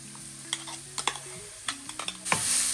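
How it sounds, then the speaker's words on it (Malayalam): Crushed spice mix frying in a pan for a curry, a steady sizzle broken by sharp scraping stirs and spoon clicks, close and alone, swelling into a louder hiss near the end. "അരച്ചല്ല ചതച്ച് വെച്ചിരിക്കുന്ന ആ കൂട്ടില്ലേ, അതിനി ഇതിനകത്തോട്ട് ഇട്ട് കൊടുക്കണം. അത് മൊരിയണം നല്ലപോലെ."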